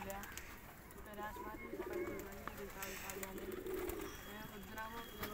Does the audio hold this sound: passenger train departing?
no